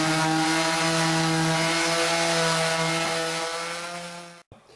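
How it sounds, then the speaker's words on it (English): An orbital sander sanding a wooden log coffee table drones close by, a steady motorized buzz, even and continuous, then winds down and cuts off abruptly near the end. "we're going to do now is a final sanding with the orbital sander"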